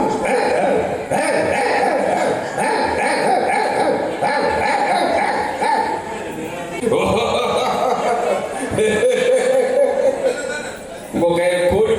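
A man imitates barking dogs with his voice, yipping, whimpering and bow-wow sounds acted out in a lively comic routine about village and town dogs, loud and close with continuous vocal bursts.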